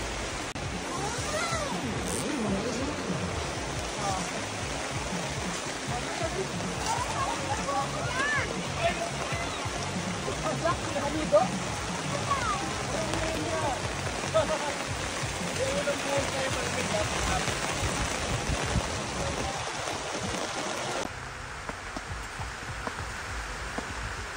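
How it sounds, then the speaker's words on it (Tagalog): Steady heavy rain drums on a tent overhead at a campsite in Atok, Benguet, a dense continuous patter that runs unbroken for a long stretch, with faint voices murmuring beneath. "ay bumuhos ang malakas na ulan"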